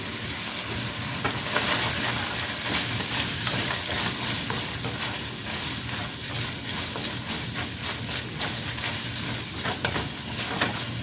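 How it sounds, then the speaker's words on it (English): Food browns in a pot on the stove while it is stirred, a dense, bright, crackling sizzle that holds steady and close throughout, with occasional louder pops and scraping from the stirring and no talking. "We'll let this continue to brown up"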